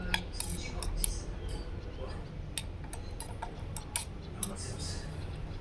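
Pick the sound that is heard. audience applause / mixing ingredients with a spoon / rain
mixing ingredients with a spoon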